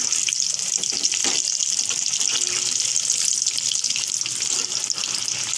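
Chops dipped in gram flour batter sizzle and crackle loudly in hot oil in a wok, a dense continuous frying hiss with occasional bubbling pops, close and alone.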